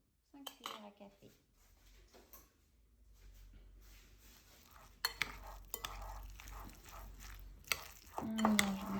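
A utensil stirs and mixes ensaladilla ingredients in a bowl, with clinking scrapes and soft wet mixing sounds, close and fairly quiet, picking up in intensity toward the end.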